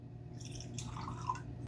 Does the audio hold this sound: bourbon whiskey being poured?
yes